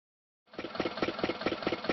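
A tractor engine idles after a short silence, a mid-pitched diesel chugging with a steady rhythmic pulse, close and fairly loud, with no talk over it.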